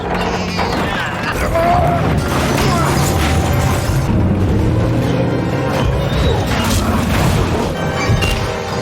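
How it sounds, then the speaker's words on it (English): A demolition machine tears down a house in the film I, Robot, with continuous loud crashing, smashing and mechanical rumble over a dense movie soundtrack and scattered voices. "He's destroying that house quickly."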